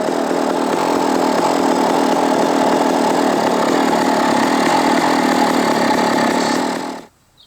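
A 2013 KTM 300 XCW two-stroke dirt bike engine idling up close, a loud steady rattling putter that runs evenly for about seven seconds, then cuts off abruptly into near silence.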